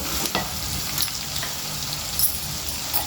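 Cashew chicken fries steadily in a pan, a dense continuous sizzle with faint stirring scrapes and small crackles, close and fairly loud, with no voices.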